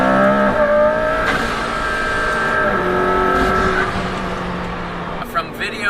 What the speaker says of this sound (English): Wastegate noise is awesome. It's got a great shriek to it.